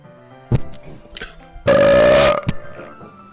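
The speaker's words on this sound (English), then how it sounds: "was the burp a 10 out of 10" A single loud, drawn-out burp lasting about half a second, close to the microphone, framed by short bursts of noise and quiet moments before and after.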